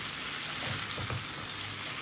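Mutton sizzles and fries in a kadai with chui jhal for a Bengali meat curry, a steady close crackle with soft stirring scrapes and no voices.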